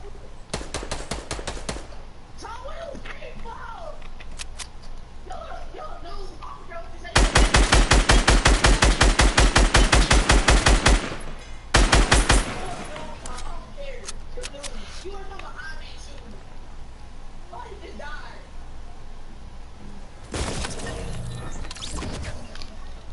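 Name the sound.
gunfire in a video game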